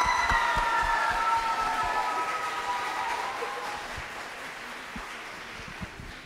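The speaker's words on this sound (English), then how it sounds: "Can we get a round of applause for our eighth graders?" Audience applause for eighth graders at a middle school spring concert, a broad wash of many hands clapping that slowly fades, with a high whistling or tonal sound over it at the start.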